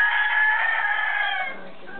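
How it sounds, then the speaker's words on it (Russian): A rooster crows once, close and clear, from a flock of hens kept through winter. "Из наших цыплят получилось 25 курочек."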